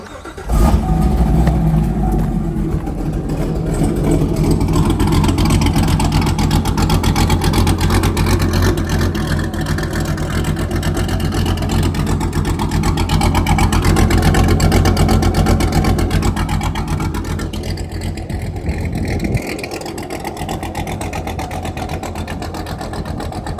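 A Corvette C7 Z06 fitted with a GPI LTPD1 camshaft fires up and settles into a loud, steady, lumpy idle that rumbles close by for the whole stretch, dipping slightly near the end.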